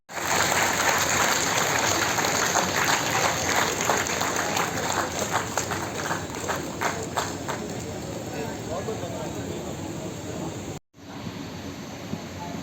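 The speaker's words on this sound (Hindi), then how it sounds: "तालियां बनती हैं" At a literary award ceremony in Bhopal, a hall full of people applauds loudly and continuously, with voices mixed into the clapping before it briefly cuts off.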